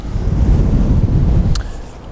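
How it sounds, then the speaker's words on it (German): Strong wind blows across a fishing bank, a constant loud roar and rumble buffeting the microphone before it eases slightly near the end. "Der Wind bläst ziemlich stark gerade."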